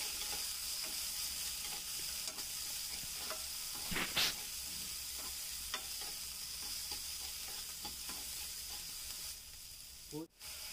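Shallots, chillies and garlic sizzle steadily in a hot pan, a constant close frying hiss with a brief stirring scrape midway and a utensil knock near the end.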